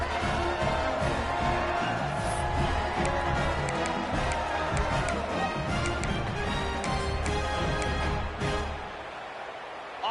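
A stadium crowd in a college football video game, Old Dominion against Hawaii, a dense sustained roar of cheering and clapping across the whole stretch, easing off slightly at the very end.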